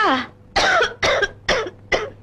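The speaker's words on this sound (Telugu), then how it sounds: "ఏంటమ్మా దగ్గు మరీ ఎక్కువగా ఉందమ్మా" A woman coughs in a run of five harsh, rasping bursts, close and loud, with short pauses between each cough.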